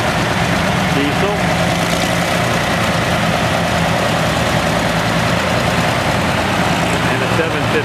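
A 1965 656 Utility diesel tractor engine idling at a tractor show, a steady low rumble throughout with people talking over it.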